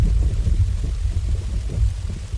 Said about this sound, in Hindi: रघु ने देखा कि बारिश की बूंदें अब और भी तेज हो गई हैं। तूफान की रफ्तार भी काफी बढ़ गई है।